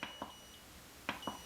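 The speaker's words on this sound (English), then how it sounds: "First you turn it on and all the lights come on, then it gives you the beep signal" Chi Machine electro reflex energizer giving its start-up beep signal: a few short, faint electronic beeps in quick pairs over a quiet background.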